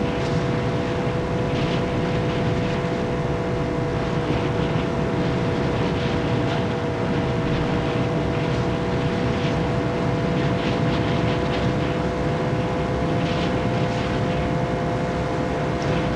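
Roaring car engine under nitrous injection in BeamNG.drive, a loud, dense, steady drone with constant tonal whine held for the whole stretch, no talk over it.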